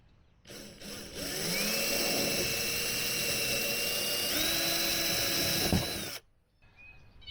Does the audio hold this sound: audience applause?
no